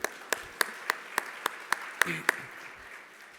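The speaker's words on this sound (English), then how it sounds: "Round of applause for the governor." At a leaders' luncheon honoring the governor of New Mexico, a few sharp, evenly spaced claps ring out, fairly faint and sparse in a quiet room.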